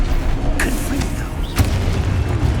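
In Hogwarts Legacy, a Confringo blasting spell goes off with booming explosive bursts, including a sharp loud blast near the middle over a rumbling low background.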